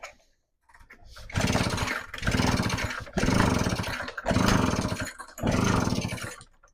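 A backpack blower engine is pulled five times in a row, each pull giving a loud rough sputtering burst that dies back, close by.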